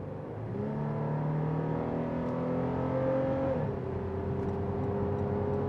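Inside the cabin of a 2020 Toyota 4Runner under full-throttle acceleration, a steady, loud engine drone climbs in pitch through the gears with a brief dip at a shift, and no voices.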